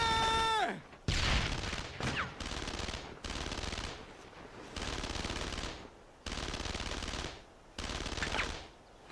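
Sustained bursts of machine gun fire in the World War II shooter Brothers in Arms: Road to Hill 30 on PS2, loud and close, rattling in long strings separated by brief pauses.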